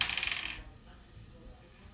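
Small dice rattle and clatter across a table for a saving throw during a tabletop Dungeons & Dragons session, a quick burst of close clicks in the first half second, then fading into quiet room tone.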